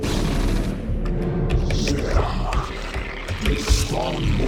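Explosions and rumbling battle blasts from the StarCraft video game fill a dense, continuous roar of booms and crackling impacts, loud and steady without any voices.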